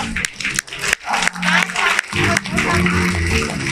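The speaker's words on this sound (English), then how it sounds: "Give her a round of applause." Audience applause for an auction winner, scattered clapping from a crowd with irregular bursts and gaps, mixed with some voices and background noise.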